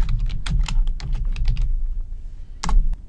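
Rapid keystrokes on a computer keyboard clatter up close in a quick burst, pause briefly, then a final couple of taps follow.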